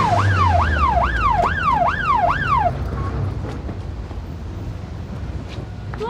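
An ambulance siren wails, rising and falling in quick, regular sweeps for a few seconds, then cuts off, leaving wind rumble and faint outdoor noise.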